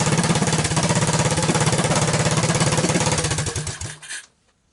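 Honda ATC200 engine on its original OEM ignition, running with a rapid, even, loud chugging pulse up close before quickly cutting off and going silent.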